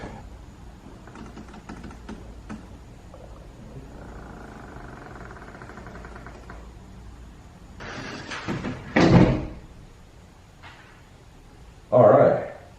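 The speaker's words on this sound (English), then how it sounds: "the other door started closing again, and it completely closed again" A house door swings shut on its own, ending in a sharp thud that is followed a few seconds later by a second knock, with quiet voices and room noise heard before it.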